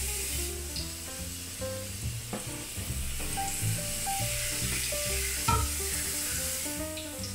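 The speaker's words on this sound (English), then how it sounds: "gently put it into the oil with the skin side facing up" Eggplant tempura pieces in butter frying in hot oil at home, a continuous close sizzle and bubbling hiss throughout, with occasional soft clinks and no talking.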